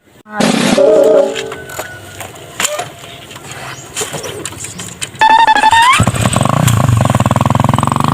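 A motorcycle engine roars and revs close by, climbing in pitch, then settles into a loud, steady throbbing idle.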